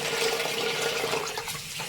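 Amaranth leaves washed in water, a steady close rush of running and splashing water without pause.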